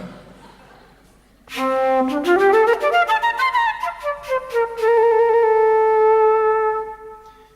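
A bright, brassy digital trumpet honks a run of short stuttering notes, then a bending squawk and a long sustained tone, imitating a clucking chicken, at a live jazz concert.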